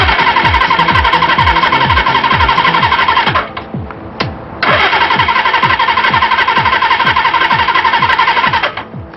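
A 1978 Suzuki motorcycle engine cranks hard on its starter, loud and close, with rapid rhythmic turning in two long bursts separated by a short pause, never catching.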